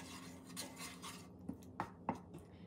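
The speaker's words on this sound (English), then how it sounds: "And I'm going to mix all this well" Soft scraping and stirring of yogurt and tomato paste being mixed in a bowl, ending with a few light clinks of a utensil against the dish, quiet and close with no talk.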